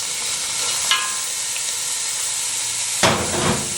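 Diced onions, celery and carrots sautéing in a soup pot, a steady close hiss of frying with a light clink near the start and a louder stirring burst toward the end.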